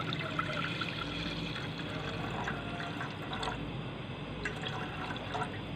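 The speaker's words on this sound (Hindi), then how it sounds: "पैन में हम पहले दूध डाल देंगे" Milk poured into a cooking pan for a mango custard, a steady liquid pour and trickle running continuously at close range with no talking.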